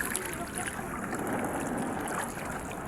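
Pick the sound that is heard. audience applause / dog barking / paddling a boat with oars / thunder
paddling a boat with oars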